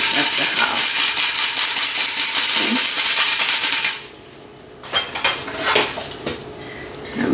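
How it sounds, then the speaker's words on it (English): A whisk works an ingredient into thick cake batter in a metal bowl, with rapid, loud scraping and clinking that stops for about a second, then resumes in irregular bursts. "just gonna whisk that in slowly"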